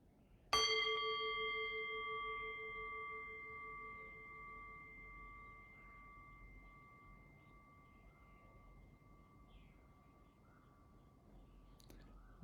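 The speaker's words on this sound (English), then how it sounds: "And I'll ring the bell and I'll guide us in." A meditation bell is struck once, sharp and close, then rings out with a long, shimmering decay that fades slowly into a quiet room.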